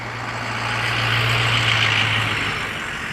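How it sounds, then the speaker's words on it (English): A car approaches on a road, a broad rushing hum that swells and holds loud and near, with a steady low engine drone under it. "Oh, got a car coming."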